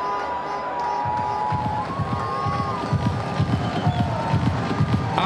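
Stadium crowd at a PSL cricket match between Peshawar Zalmi and Quetta Gladiators, a dense steady roar of voices with rumbling thumps and faint whistles throughout.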